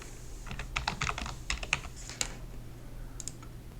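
Fast, irregular keystrokes on a computer keyboard, typing a short search entry in two bursts with small pauses, close and clear over a faint steady hum, no voices.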